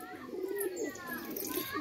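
A prized pet pigeon gives a brief, soft coo up close, a single low drawn-out call over faint background sound.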